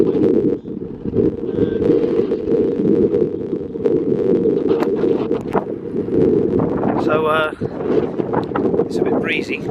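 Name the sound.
wind blowing outdoors, breezy weather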